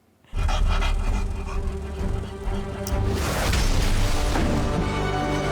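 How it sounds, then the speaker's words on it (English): Krypto, the superhero dog from the Superman film, panting heavily and close over a busy film soundtrack of crashes and rumble, continuous rapid breaths with no talk. "Good doggy."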